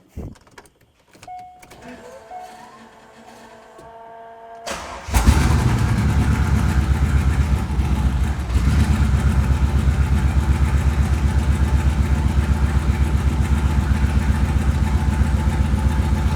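A Corvette engine catches after a few seconds of quiet cranking and clicks, then runs loud and steady with a rough, even idle, freshly fitted with a new thermostat and coolant.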